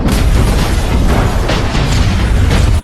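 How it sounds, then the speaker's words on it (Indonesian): A bomb goes off in a warehouse during a film scene, a loud, dense, sustained blast roar filling nearly three seconds before cutting off abruptly. "Pil telah merakit bom di gudang milik Getter agar narkoba miliknya musnah"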